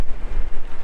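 Strong gusty wind buffets the microphone at the construction site of Everton F.C.'s new stadium, beside a crane, a loud broadband rumble pulsing unevenly throughout.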